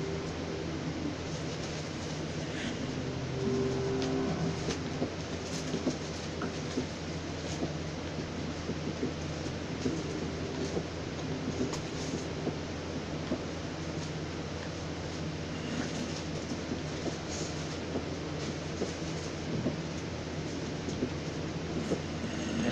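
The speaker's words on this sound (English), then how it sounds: "Cave sounds." Minecraft video game cave ambience: a steady, dense low rumble with a faint hollow drone, continuous and unbroken throughout, alone with no voices.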